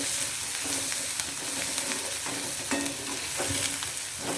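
Ridge gourd sautés in a pan for chutney, a steady loud sizzle of frying with occasional stirring scrapes running throughout, close up and with no talk.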